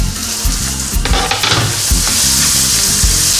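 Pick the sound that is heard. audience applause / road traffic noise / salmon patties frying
salmon patties frying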